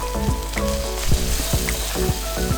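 Pork, green beans and red curry paste sizzle steadily in a pan for pad prik khing, with a near, continuous fry broken by several rhythmic scraping stirs and no talk.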